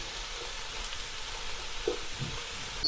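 Curry leaves sizzle and fry in hot oil in a pan for chicken noodles, a steady close crackling hiss with a couple of soft pops and no talking.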